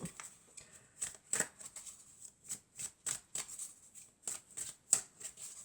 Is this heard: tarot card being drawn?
yes